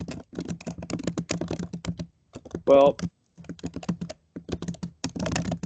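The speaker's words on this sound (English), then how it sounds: "there is somebody typing, and if you could mute, that would be helpful" A computer keyboard is typed on during a public records advisory council meeting call, with rapid, steady clicking running underneath a person talking throughout.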